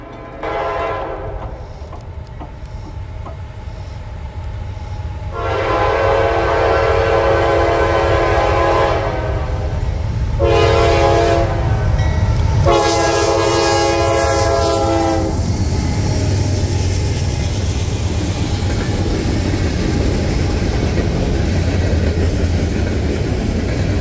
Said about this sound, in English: The next train was NS-123 out of Decatur, Illinois for Chattanooga, Tennessee, with a C6M rebuild leading